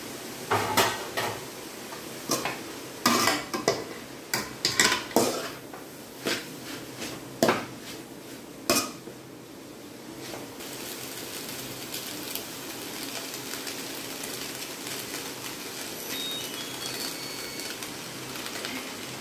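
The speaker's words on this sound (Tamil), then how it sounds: "நான் வச்சுருக்க நூடுல்ஸை அப்படியே கொஞ்சம் கொஞ்சமாக நான் கிளறி விட்டு ஆட் பண்ணிக்கிறேன்" Noodles being stirred in a pan with vegetables, giving several clattering scrapes and clinks of a utensil against the pan early on, followed by a steady soft cooking hiss without talk.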